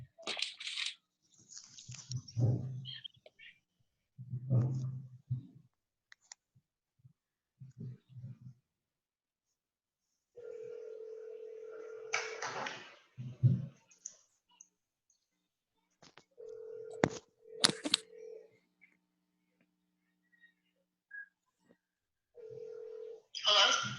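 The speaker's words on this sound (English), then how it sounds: "I'm gonna make a phone call." A phone call being placed in a meeting setting: scattered clicks of dialing, then several sustained steady telephone tones, each a few seconds long, with people talking at moderate level before and between them.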